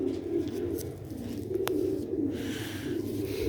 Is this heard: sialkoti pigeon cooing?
yes